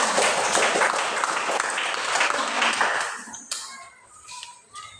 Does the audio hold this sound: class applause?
yes